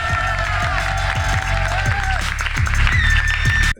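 An audience applauds comedian Julien Santini at a stand-up show: steady, dense clapping with some cheering fills the room for several seconds, while music with sustained tones plays underneath, then stops abruptly.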